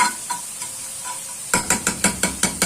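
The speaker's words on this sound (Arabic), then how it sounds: "حبه صغننين كده بتقلبي بقى التومه كده" Garlic stirred in a little oil in a pan, a soft sizzle followed by a quick run of about seven rhythmic scraping strokes of a utensil against the pan, close and fairly loud.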